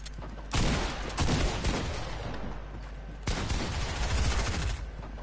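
Gunfire in the video game Fortnite, with two loud bursts of rapid shots. The first starts about half a second in and the second around the three-second mark, each trailing into a noisy rattle.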